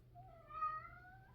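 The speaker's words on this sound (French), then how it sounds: "Qu'est-ce qu'il veut, le petit chat?" A single soft indoor meow from a small cat, rising then falling in pitch, heard close and alone over a quiet low background hum.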